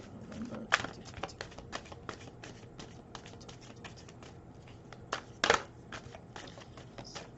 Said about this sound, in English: So let me finish shuffling here.